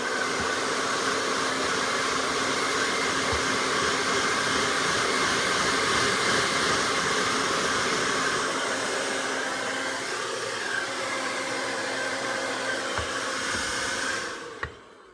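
A hair dryer blows steadily and loudly on a Yorkie's coat during grooming after a bath, a continuous broadband rush that holds for about fourteen seconds before cutting off.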